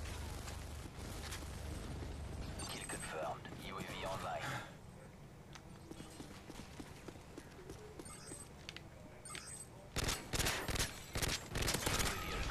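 Rapid automatic gunfire from Call of Duty Modern Warfare 3 multiplayer crackles in dense bursts, loud and continuous at first, then thinner shots, ending with heavy close bursts, with someone talking over the game.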